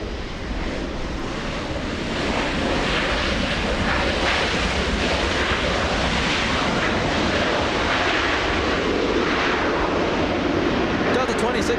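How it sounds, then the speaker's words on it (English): A Delta airliner arriving at Los Angeles International Airport from Salt Lake City produces a loud, sustained jet engine roar that swells slightly and holds steady, mixed with wind buffeting. "Delta 2657 flying in from Salt Lake City, 1 hour 27 minutes of flight time"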